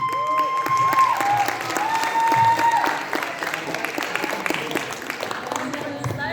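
Audience applause fills an award ceremony at a children's short film festival, steady dense clapping running throughout, with a sustained whistle-like tone early on and a voice speaking over it.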